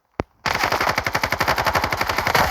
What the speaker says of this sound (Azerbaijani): Ama çok güçlü silah.